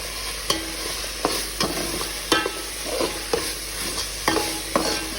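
Curry leaves and vegetable pulav ingredients fry in oil over high flame, a bright constant sizzle punctuated by regular scraping stirs of a spoon against the pan, close and loud.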